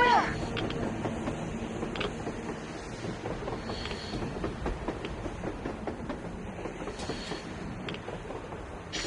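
A train running on the surface in the game Metro Exodus: a steady, rumbling rattle of wheels and carriages under wind and ambient noise, with talking on top.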